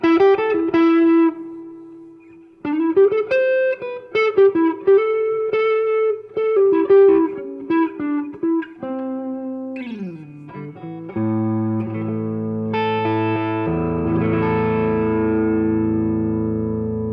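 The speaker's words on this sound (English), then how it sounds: "Now I got a spring reverb again." Electric guitar played through a Fender Tone Master Deluxe Reverb amp with spring reverb, picked notes and chords ringing out in short phrases that swell into sustained, distorted chords with a reverberant tail, loud and close.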